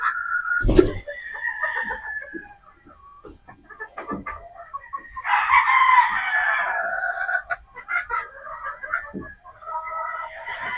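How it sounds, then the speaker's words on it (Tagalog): Boston Roundhead chickens clucking and crowing: near, fairly loud calls in irregular bursts, with a sharp knock early on and quieter scattered sounds between them. "So, yan po sila mga bossing yung ating Boston Roundhead."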